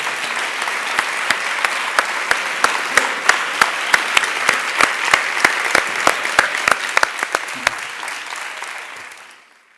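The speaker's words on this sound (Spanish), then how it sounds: "se merece un gran aplauso" A large conference audience in Spain applauds after a lecture on the eloquent image: dense, steady clapping with a few sharper individual claps, holding for about eight seconds, then fading away.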